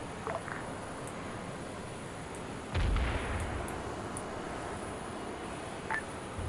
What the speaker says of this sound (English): I have 500 pounder dropping in 3, 2, bombs away.